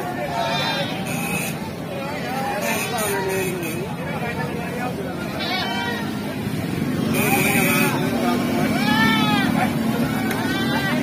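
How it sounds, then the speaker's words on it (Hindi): Barbari goats bleating at a busy goat market in Tahirpur, many repeated calls near and farther off amid crowd babble and people talking. "ताहरपुर बकरा मंडी ये बरबरी के लिए बहुत फेमस है पूरे हिंदुस्तान में"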